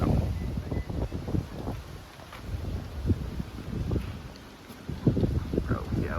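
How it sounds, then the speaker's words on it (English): Strong wind buffets the microphone at an ocean-side campsite on a rainy day, a steady low rumble under people talking nearby. "Still super windy though."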